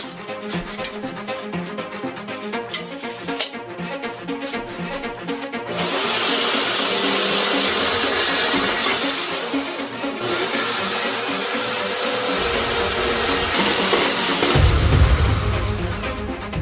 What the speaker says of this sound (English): So now we can cut the rebar, now that I know the sizes that I need to put here.